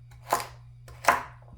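Two crisp knife chops cut celery on a cutting board, close and distinct, spaced under a second apart over a faint steady hum.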